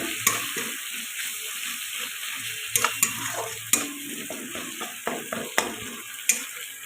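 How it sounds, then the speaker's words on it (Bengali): Grated ginger being stirred into soft, cooked-down tomatoes in a pan for a Bengali bhetki fish curry with potatoes, giving a steady close sizzle broken by sharp scraping knocks of the spoon against the pan, with no talk. "এবার আমি দিয়ে দেব ঘষে রাখা আদা নেড়ে মিশিয়ে নেব"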